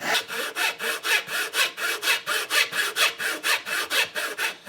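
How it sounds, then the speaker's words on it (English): A hand saw cuts a 1/8 inch corner joint in wood, with about twenty quick, even back-and-forth strokes, rasping loudly and close with no talk. "So I'm going to cut this 1/8 inch corner joint here first"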